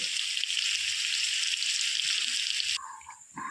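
Onion frying in a pan gives a steady, close hiss for about three seconds, then the sizzle cuts off and gives way to quieter, scattered kitchen noises.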